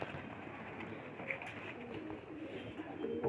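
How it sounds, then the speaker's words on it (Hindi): A pigeon coos softly nearby during an evening catch, low murmuring calls over faint steady background noise. "ये कबूतर है, पकड़ लिया।"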